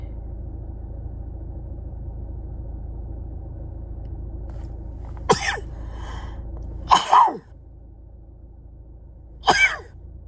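Against a low vehicle rumble, a person sneezes three times in close succession, each a sharp nearby burst, with a brief sniffle or breath between them.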